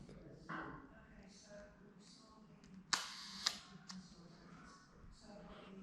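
Shutter of a rare Lily 8x10.5cm folding plate camera firing for an exposure: two sharp, close mechanical clicks about half a second apart, set against quiet room tone with faint talk nearby.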